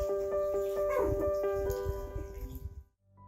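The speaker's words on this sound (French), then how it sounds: "Il demande de l'aide en aboyant fort." A husky stranded atop an electricity pylon barks loudly and repeatedly, its strong tonal barks and whimpering yips coming close and steady, then cutting off abruptly near the end.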